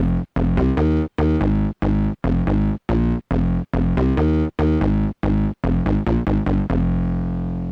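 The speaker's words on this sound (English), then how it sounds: "It's a rather harsh distortion." A heavily distorted, buzzing guitar-like tone from a Casio VA-10's distortion effect plays a choppy rhythmic pattern of short stabs, harsh and gritty, ending on a sustained ringing note.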